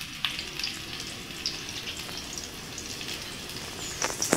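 Sweet potato and fish bagoong fry in a pan for sardines with mixed vegetables, a continuous crackling sizzle with small pops and spatters throughout.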